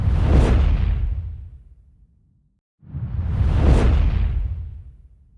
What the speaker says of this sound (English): 4. Intense transitions torch whoosh.